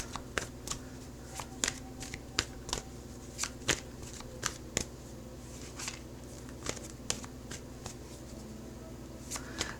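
Tarot cards being handled and shuffled as the Tower card is drawn, a steady run of crisp, close card snaps and riffles repeating through a quiet room with a low background hum.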